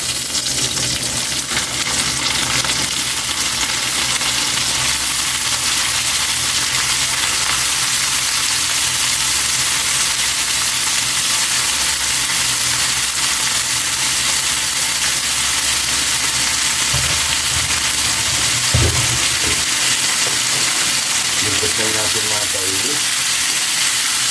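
Octopus sizzles steadily as it fries in a pan for adobo, a loud continuous crackle and hiss that runs throughout, with a few brief stir or clatter sounds near the end.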